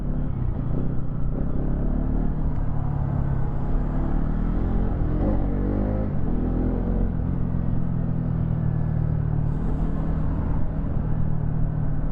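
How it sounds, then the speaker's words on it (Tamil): A 2025 Bajaj NS200 motorcycle engine accelerates in first gear, its rumble and rising rev sweeps close and steady, with no speech over it. "ஃபஸ்ட் கியரில் பார்த்தீங்களா தூக்குறான் அருமையாக தூக்குவானப்பா"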